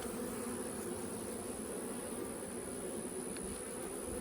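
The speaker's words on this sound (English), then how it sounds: "This right here is what a strong beehive looks like." Honey bees buzz steadily around an open, strong beehive on a farm, a dense continuous drone close to the listener with no talking.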